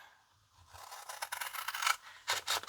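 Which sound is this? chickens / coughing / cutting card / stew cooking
cutting card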